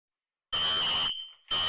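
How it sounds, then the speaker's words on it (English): A fire alarm blares a loud, shrill, continuous tone in a building, recorded on a police helmet camera. It breaks off briefly and then resumes, with no voices over it. "So automatically you hear the fire alarm going off."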